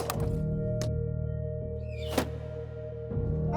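A Roman-style Scorpio siege weapon looses a single shot, heard as one short, sharp thunk midway through, set against a steady droning hum.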